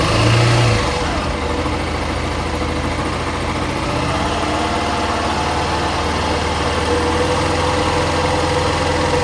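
A motorcycle engine holds a steady 2,000–3,000 rpm, giving an even, constant drone up close after a brief louder rumble at the start, with no talking over it.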